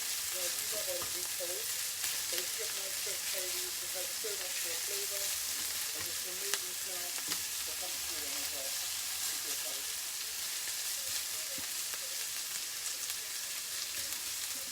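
Curry leaves and onions fry in a pan for a Keralan-inspired fish curry, a steady close sizzle with occasional stirring scrapes and no talking.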